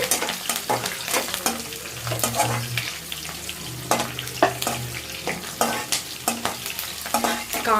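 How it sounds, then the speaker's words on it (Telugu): Curry leaves and tempering spices frying in hot oil for ginger tamarind curry, a busy sizzle with repeated scraping stirs of a spoon in the pan, close and fairly loud throughout. "కరివేపాకు కూడా వేసుకోండి బాగుంటుంది టేస్ట్ అయితే మంచి వాసన వస్తుంది కొంచెం పోపు వేగే వరకు కలపాలి"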